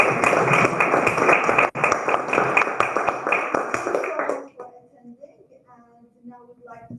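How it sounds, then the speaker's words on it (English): Applause from a meeting audience of members and guests, a dense burst of clapping for about four and a half seconds, then fading into quiet murmuring and a few stray sounds. "Give them a big round of applause."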